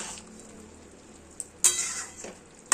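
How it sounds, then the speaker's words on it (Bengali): Vegetables for shukto fry in a pan, a quiet low sizzle followed by a few sharp scraping clinks of stirring near the end. "এইবার ঢাকনা খুলে এটাকে ভাজা ভাজা করব"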